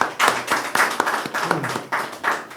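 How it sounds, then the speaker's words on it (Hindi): A church congregation at a Sunday evening service claps loudly in bursts, with sharp, close hand claps repeating in an uneven rhythm over a couple of seconds. "के लिए जोरदार ताली बजाते हैं।"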